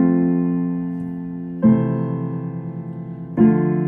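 Simple block chords from a song are struck three times at an even pace, each chord ringing out and slowly decaying before the next.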